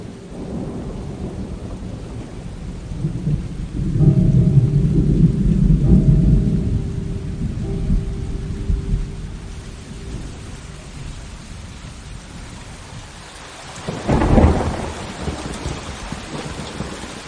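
Heavy rain pours steadily during a thunderstorm, with a deep rolling rumble of thunder midway and a sharper, louder crack later, no voices over the constant hiss.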